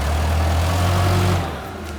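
A forklift rolls forward with a steady engine drone that holds for over a second and then eases off as it slows for a brake check, close and fairly loud.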